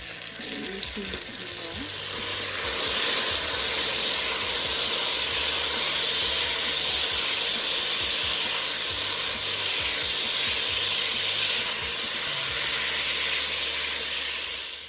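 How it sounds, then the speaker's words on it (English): Butter and jam melting in a pot, giving a loud, steady hiss and sizzle that holds throughout with little change, over a low background rumble. "Once your butter is almost melted, you're gonna add your 2 tablespoons of jam, any jam of choice."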